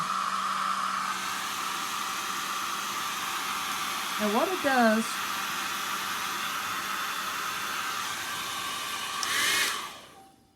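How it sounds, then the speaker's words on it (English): A steady, even whoosh of a hair dryer running on low over acrylic paint pouring, close and constant throughout, with a brief spoken phrase partway and the airflow fading at the end. "So now we come in with the hairdryer"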